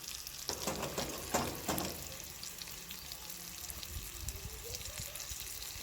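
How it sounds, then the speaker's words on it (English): Beer can chicken sizzles and crackles steadily on a barbecue, with a few louder bursts of spitting early on, close and continuous. "Don't you just love the sizzle?"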